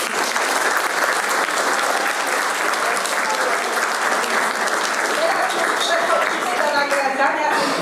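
Sustained applause from an audience honouring participants of a school history contest in an indoor hall, steady and full throughout with a light crowd murmur.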